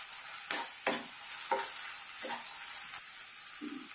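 Spices and onion frying in oil for a chicken curry, a soft steady sizzle broken by several distinct scrapes of a spatula at irregular intervals.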